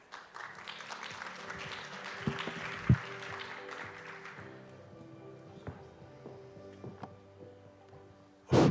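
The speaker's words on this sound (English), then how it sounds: "Please give him a big round of applause." An audience at a global partnership forum applauds briefly. The clapping fades after a few seconds into a quiet hall with scattered thumps and a sharp knock near the end.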